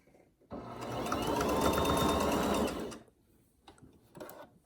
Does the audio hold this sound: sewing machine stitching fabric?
yes